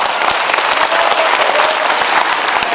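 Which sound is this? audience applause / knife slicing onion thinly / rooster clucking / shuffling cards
audience applause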